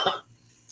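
A single short cough at the start, then near silence with a faint hum.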